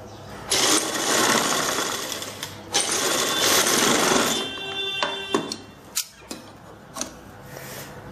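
Close, loud bursts from a sewing machine stitching a blouse come in several runs of a few seconds each, separated by short pauses and small clicks.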